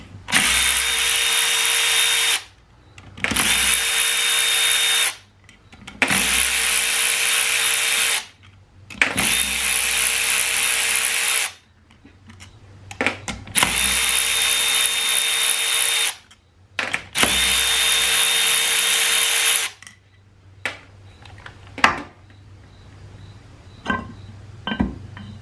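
A 1/2 inch power tool, heard as a loud whirring drill-like run, spins out 47RE transmission pump bolts in a shop. Six close, even bursts of a few seconds each are separated by short pauses, followed by quieter clinks of parts being handled.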